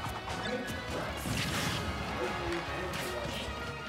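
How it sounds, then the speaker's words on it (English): A bomb explodes during a Super Smash Bros. Ultimate match between Young Link and Link, a dense crashing burst mixed into busy game effects, with commentators talking over it. "He dropped a bomb"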